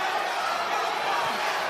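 Crowd cheering at a boxing fight between Holmatov and Ford, a continuous roar of many voices filling the arena, loud and steady.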